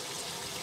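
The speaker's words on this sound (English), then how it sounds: "Then gently rinsing it out." A synthetic or sable acrylic paint brush is swirled and rinsed in a container of water, giving a steady, close, continuous trickling and sloshing wash with no talk over it.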